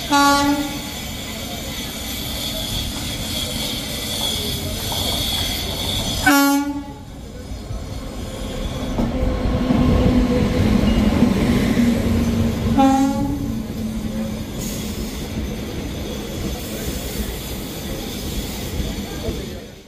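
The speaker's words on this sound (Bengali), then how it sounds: "1 নম্বর প্ল্যাটফর্মে এসে দাঁড়ালো 13-103 ডাউন ভাগীরথী এক্সপ্রেস" The Bhagirathi Express pulls into platform 1 at Krishnanagar station, rumbling and clattering loudly throughout, with two long horn blasts and faint background voices.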